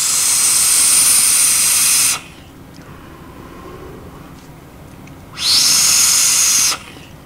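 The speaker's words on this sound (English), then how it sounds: "there's a little bit of whistling in the airflow itself" Two bursts of loud, high airy hissing with a thin whistle from the airflow of an Icon RDA vape atomizer, separated by a few seconds of quiet low rushing; no talking.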